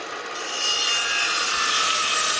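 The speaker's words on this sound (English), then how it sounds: "I'm going to go ahead and rip this last piece here" A saw rips steadily along an old cedar fence board, a loud, continuous rasping whine that swells after a brief quieter start and holds without pause.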